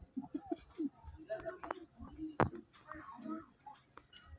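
A pair of Madrasi pigeons coo softly and close by, with repeated low throaty calls and some wing flutter, while a person speaks quietly over them.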